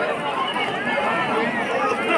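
Dense crowd babble from people packed together at a function to take selfies, a continuous close hubbub of overlapping voices and movement with no single voice standing out.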